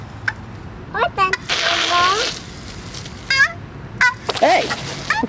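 Garden hose spraying water, making two loud bursts of splashing and sloshing, separated by shouting voices and brief yelps close by.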